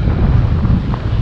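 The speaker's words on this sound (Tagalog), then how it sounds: "Sobrang lakas ng hangin, ang mga tarp ay lilipad." Strong wind by a river buffets the microphone in a loud, continuous low roar, briefly and close up, at a campsite in Tanay, Rizal.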